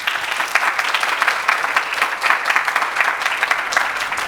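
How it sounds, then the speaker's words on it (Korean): A studio audience gives a big round of applause at a KBS and KAIST televised science concert. The clapping is dense, close and continuous, with no talk over it. "큰 박수 부탁드리겠습니다"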